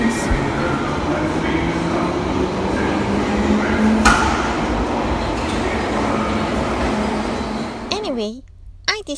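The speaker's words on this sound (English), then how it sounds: "Mind the gap. This station is Charing Cross." A London Underground train rumbles loudly and steadily at Charing Cross station, a dense roar that runs through most of the clip before dropping off near the end, with a voice heard over it.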